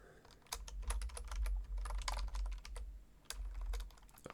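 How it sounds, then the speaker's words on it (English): Rapid clicking of keys on a computer keyboard as a search term is entered into GIS software, close and crisp, coming in quick bursts with short pauses between them. "So we typed in OpenStreetMaps"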